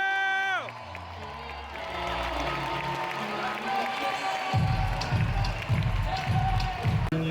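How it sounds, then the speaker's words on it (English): An influencer event crowd rises to its feet with cheering, whoops and applause after a short burst of music, the noise building and staying loud and continuous, with voices shouting among the clapping. "Round of applause and influencer welcome to your feet."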